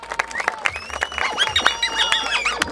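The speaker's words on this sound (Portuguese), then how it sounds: "Palmas, mais palmas aí, família." An audience claps at a rap battle, the 141st Batalha da Aldeia in Barueri, São Paulo, with scattered claps mixed with loud crowd shouting and whistling voices.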